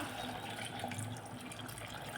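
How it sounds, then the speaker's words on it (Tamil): Water pours in a steady, close stream into mutton in a pressure cooker, a continuous splashing rush with no voices. "தேவையான அளவு தண்ணி ஊற்றிக்கலாம்"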